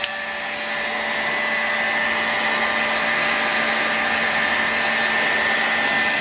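A heat gun blows steadily on the crankcase of a Saito FA-120S model four-stroke engine during bearing replacement, a constant airy whine that holds close and loud throughout with no talking.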